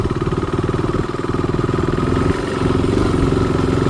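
Close up, a KTM RC 390 motorcycle idles with its hot engine and automatic cooling fan running: a loud, steady, rapidly pulsing rumble that continues without a break.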